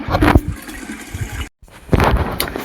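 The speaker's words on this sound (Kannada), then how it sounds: "ಈಗ ನೀರು ತುಂಬಾತೀವಿ ನೋಡಿ" Water gushes into containers being filled for drinking and household use, coming in two short loud rushing bursts separated by a brief silent break.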